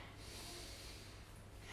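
A person draws a deep, slow breath in through the nose during a rolling spinal stretch, a faint, airy intake heard alone with no talking.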